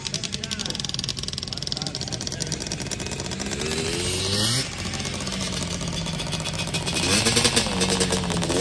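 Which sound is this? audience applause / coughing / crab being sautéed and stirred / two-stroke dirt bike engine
two-stroke dirt bike engine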